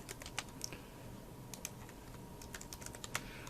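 Fingers tap rapidly on a computer keyboard in quick irregular bursts of crisp clicks, quiet and close, with no talking.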